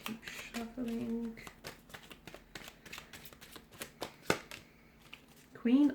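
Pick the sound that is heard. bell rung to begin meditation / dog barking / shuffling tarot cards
shuffling tarot cards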